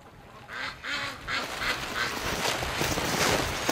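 A handful of ducks quack close by outdoors on a late-winter day, short nasal calls repeating in quick bursts over a soft background hiss.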